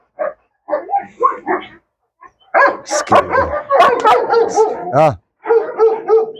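A fearful dog in training barks in several sharp bursts, close and loud, mixed with a voice encouraging and talking to it.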